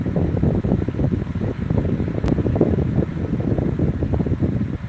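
An Atomberg Renesa 600mm energy-saving ceiling fan runs at maximum speed, giving a steady whooshing airflow rush that stays loud and close without any talk.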